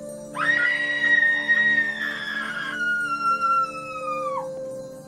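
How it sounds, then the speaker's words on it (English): A woman screams into a pillow, giving a muffled, sustained high cry that holds steady for a few seconds, breaks, then trails off in a falling wail, fairly loud and alone. "watch her screaming into the pillow"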